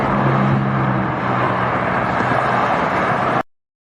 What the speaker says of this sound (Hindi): कार शहर और गांव में चलने वाली सबसे आम गाड़ी है।